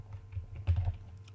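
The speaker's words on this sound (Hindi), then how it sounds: "जैसे मैंने यहाँ पे टाइप कर लिया" Brief burst of typing on a computer keyboard, a few quick soft key clicks clustered together, close and fairly quiet with no talking.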